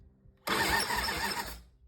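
A Harley-Davidson classic Softail engine, with no oil tank fitted, cranks over once in a short, loud burst of mechanical churning, then cuts off.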